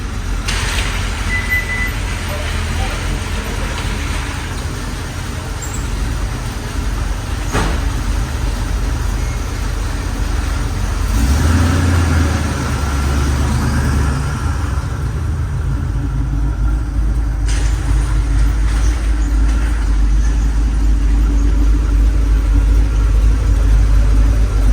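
A 1938 Chevrolet Master Town Sedan hot rod with a 350 V8 rumbles steadily while driving, a continuous low engine drone heard from inside the car with a few brief shifts in tone and no talking.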